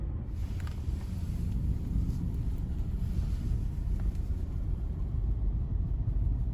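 Subaru Forester SG5 engine idling steadily after a cold morning start at about 5 degrees, a continuous low rumble with faint wind noise and no talk.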